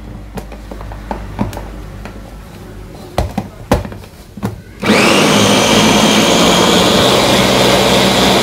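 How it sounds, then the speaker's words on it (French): A few scattered clicks and taps, then a kitchen blender roars to life and runs steadily at high speed, loudly pureeing chunks of apples and potatoes. "et là je vais les mixer"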